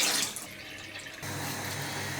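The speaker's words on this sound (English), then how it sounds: "so that the water touches and all that starchy water comes out" Tap water runs steadily into a sink while long grain rice is rinsed, a loud broadband splash that softens briefly before settling into a continuous flow.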